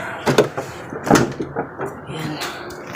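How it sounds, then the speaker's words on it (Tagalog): A house door being pulled shut, several close wooden bumps and a latch click in quick succession while someone talks over it. "Isara natin yung pintuan"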